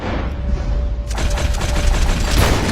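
Rapid gunfire aimed at a buffalo during a hunt in the video game Red Dead Redemption 2, a dense run of loud shots with booming low end that grows busier partway through.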